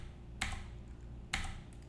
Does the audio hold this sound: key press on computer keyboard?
yes